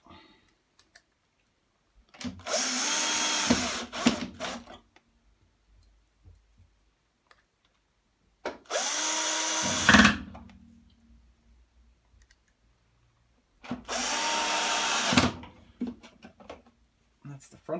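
A power drill drives screws into a washing machine panel in three loud bursts, each a couple of seconds long with a rising whine, separated by quiet pauses with small clicks and handling noises.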